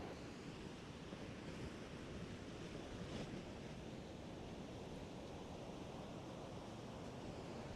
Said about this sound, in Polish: niech się troszeczkę jakieś fale pokażą i spiętrzą